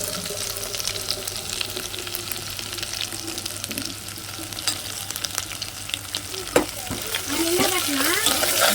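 A tempering fries in masala oil with a continuous close sizzle and crackle, some stirring scrapes, and a brief voice near the end.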